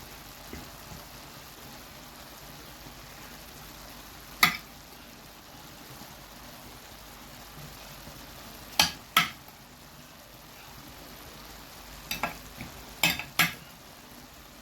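Meat and peppers being stirred in a frying pan for hawawshi, with a steady low sizzle under a few sharp scraping clicks of a utensil against the pan.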